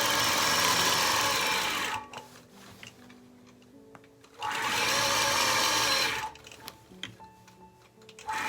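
A quilting sewing machine stitches along a ruler in two bursts of fast, steady mechanical whirring, with quieter ticking and handling noises between them, close and clear.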